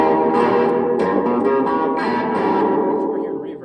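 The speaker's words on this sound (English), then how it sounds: "you can just turn up the echo." An electric guitar played through a Univox EC-80 cartridge tape echo with the echo turned up, strummed notes smearing into dense repeating tape delays and distortion, with brief speech mixed in.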